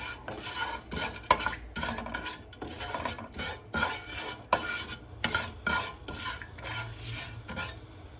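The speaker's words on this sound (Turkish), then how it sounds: "Sıvı yağda şehriyemizi güzelce kızartacağız." Steady crackling sizzle of vermicelli frying in oil, broken by repeated rhythmic scrapes of a utensil stirring through the pan, fairly close with no talking.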